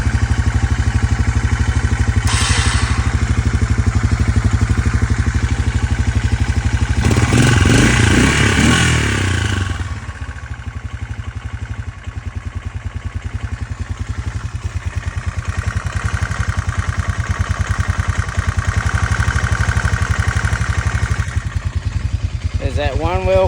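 A Honda Fourtrax 300 ATV engine runs loud and close throughout, chugging steadily with a surge of revving early on before settling back to a rough idle.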